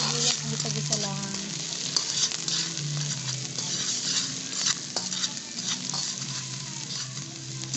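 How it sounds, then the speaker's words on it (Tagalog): Garlic and onions sauté in a pan with a continuous crackling sizzle, broken by repeated scrapes and clinks of a spatula stirring, while a low hum runs underneath. "Bawang sibuyas, gisa-gisa lang."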